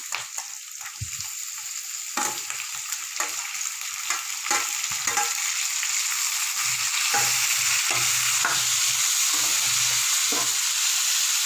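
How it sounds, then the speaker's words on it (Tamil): Onions and tomatoes sautéing in hot oil for peanut chutney, a steady close sizzle with stirring scrapes and soft low knocks as the pan is worked, heard alone without talk. "வெங்காயம் நல்லா வதங்கட்டும்."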